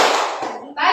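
Classroom spirit clap with hands clapping in quick unison, a dense burst of claps that dips briefly and then resumes loudly, in a school setting.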